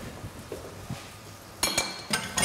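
A spoon clinks against dishes while serving food, a few sharp metallic taps and clatters in a short burst near the end after quieter handling sounds, close by.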